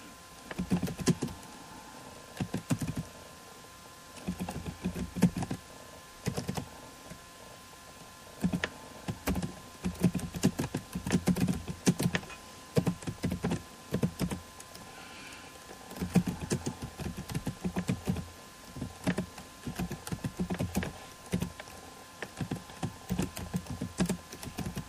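Keys clatter on a computer keyboard as code is entered, a close, quiet patter of quick taps in irregular bursts with short pauses between runs.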